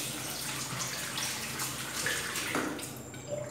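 Water runs steadily from a tap with soft splashing and gurgles while a face is rinsed during wet shaving, close by and moderately quiet, without voices.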